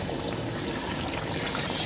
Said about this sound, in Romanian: Și cubrim de apă.